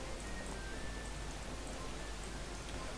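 Minecraft rain falls as a soft, even, continuous hiss of droplets, faint and unbroken, with no voices.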